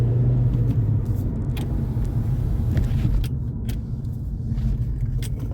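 A car driving along a road, with a steady low engine and road rumble running throughout and a brief jangle of keys near the start.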